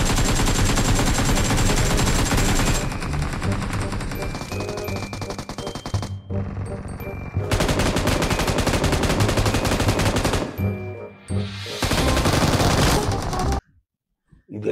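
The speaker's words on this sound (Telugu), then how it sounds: "ఒక మెషిన్ గన్ అయితే దొరికింది. దాన్ని తీసుకుని వేరే ఎనిమీస్ మీద ఫైట్ చేశాను." Machine gun fire in the mobile shooter BGMI comes as loud, dense bursts of rapid shots. Several long volleys are broken by short pauses, and the clip ends in sudden silence.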